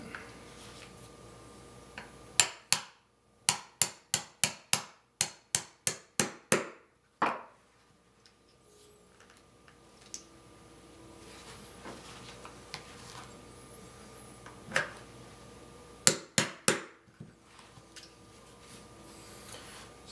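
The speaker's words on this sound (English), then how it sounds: "punch this pin out" Sharp metallic taps from a hammer driving a punch against a pin in a Ruger LCP pistol, first a rapid series of about a dozen evenly spaced strikes, then a few isolated knocks and a final short cluster, close and distinct.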